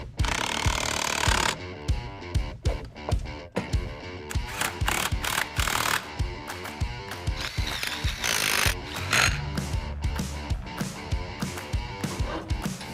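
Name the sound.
power tool bolting a wheel onto a 56 Chevy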